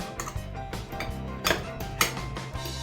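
A fried egg is cut in half on a plate, giving a few light clinks and scrapes of cutlery against the dish, close and fairly quiet, spread irregularly over a few seconds.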